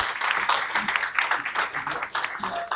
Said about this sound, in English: can we have another round of applause for His Excellency Thomas Kupfer